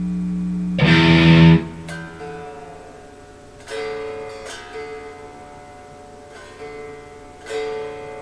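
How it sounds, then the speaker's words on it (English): Crunchy distorted electric guitar chords through an amp's crunch channel ring out, a hard strum followed by sustained chords and a few more struck chords. "the next distortion level up is the crunch channel"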